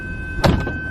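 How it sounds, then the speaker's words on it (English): A Maserati Ghibli's door swings shut with a single solid, close thunk, followed by a faint settling rattle, with a quiet cabin around it. "as soon as I close the door"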